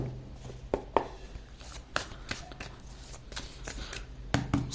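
Tarot cards being shuffled and pulled by hand, with soft papery riffles, slides and sharp snaps close by, irregular and fairly quiet, with no talking.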